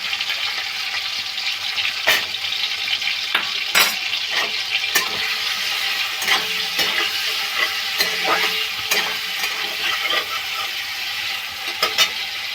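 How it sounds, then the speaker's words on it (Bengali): Prawns fry in hot oil in a kadai, a steady close sizzle broken by repeated sharp scrapes and clinks of a spatula stirring throughout. "তেলটা গরম হয়ে গেছে চিংড়ি মাছটা ভেজে নিচ্ছি"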